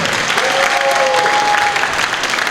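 An audience at a student award ceremony claps in a steady, dense round of applause, with a faint whistle rising briefly above the clapping.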